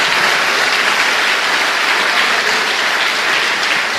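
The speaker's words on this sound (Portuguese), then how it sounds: "Uma salva de palmas a Jesus." A church congregation applauds together, a loud, dense and steady wash of clapping that fills the room without a break.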